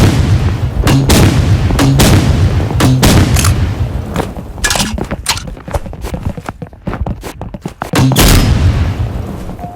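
Grenade launcher blasts in a first-person shooter game: a dense, loud run of booming explosions and sharp impacts that overlap in rapid succession, with brief dips between bursts and no talking.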